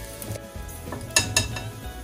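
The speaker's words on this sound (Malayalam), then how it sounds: "ഇനി നമുക്കിതൊന്ന് ഓരോന്നായിട്ടിട്ട് വറുത്ത് കോരിയെടുക്കാം." Cauliflower pieces frying in hot oil flavoured with curry leaves, a steady close sizzle with sharper crackling bursts and faint utensil clinks as pieces drop in one by one.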